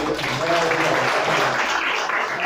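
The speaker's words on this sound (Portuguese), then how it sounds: "Quem entendeu pode aplaudir." A church congregation applauds at a service, with a dense, even wash of clapping that holds steady throughout and a voice faintly audible beneath it.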